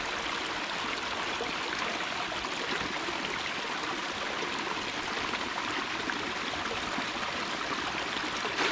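A narrow creek flows in a steady, unbroken rush of water, with a soft babbling and trickling texture that stays even and close throughout, and no voices are heard.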